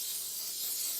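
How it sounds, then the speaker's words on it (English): Kellex penetrating lubricating fluid sprayed onto the moving springs of a vehicle jack outdoors in the bush, a steady close hiss of aerosol spray running for the full second with no talk. "give it a good spray. I've got some Kellex penetrating fluid here, lubricating fluid"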